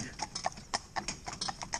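A large draft horse, a beautiful animal out on a ride-and-drive traffic training outing, clip-clops along at a steady, even walking rhythm, with close, crisp hoof strikes and no voices.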